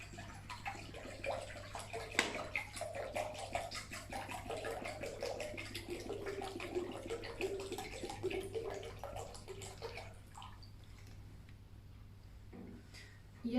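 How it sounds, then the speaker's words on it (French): Water runs into a salad bowl in a soft, continuous rush that fades near the end. A low hum stays underneath throughout. "Remplir le saladier avec de l'eau."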